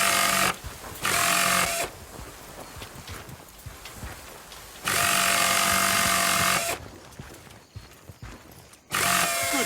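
A power tool in Battlefield Bad Company is used to repair a broken vehicle. It runs in loud, steady whirring bursts of a few seconds each, separated by quieter game ambience and clanks.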